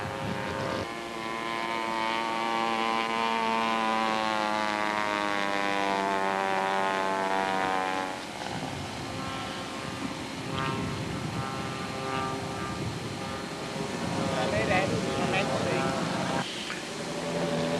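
A propeller airplane drones steadily at a distance, its engine pitch shifting as it comes in to land, while someone talks over much of it.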